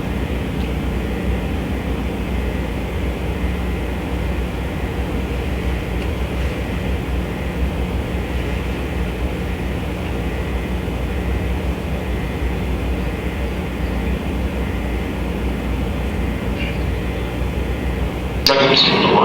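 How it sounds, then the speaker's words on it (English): NASA's Space Shuttle Discovery lifts off in April 2011 with a continuous, broad, heavy rocket roar that stays loud and steady throughout before a sudden shift at the very end. "the launch of NASA's Space Shuttle Discovery in April 2011"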